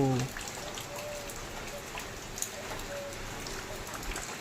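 Heavy rain pours steadily in a dense, even hiss, with a brief voice at the start.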